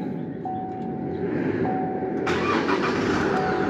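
Chevrolet Trailblazer 2.5 diesel SUV engine cranking and catching, settling into a steady mid-pitched diesel idle with a loud, continuous rumble and a brighter rise near the end.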